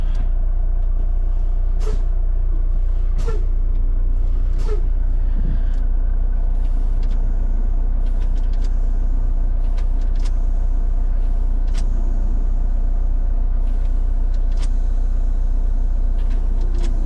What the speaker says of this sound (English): So I hit my trailer brakes a couple times.